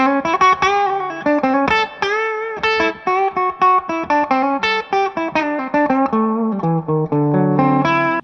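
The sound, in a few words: electric guitar through Two Rock amp, mids knob at 10 o'clock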